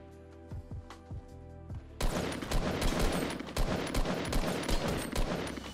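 Gunfire in Fortnite Battle Royale: a few scattered single shots at first, then a dense, sustained burst of rapid overlapping shots fills the rest of the stretch, loud and continuous with no talking.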